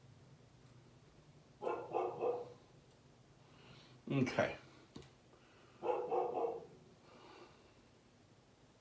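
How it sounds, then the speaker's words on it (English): A dog barks in three short bursts, each about half a second to a second long, with a pause between them. It sounds indoors and moderately close. Someone speaks briefly between the barks. "Excuse my dog barking."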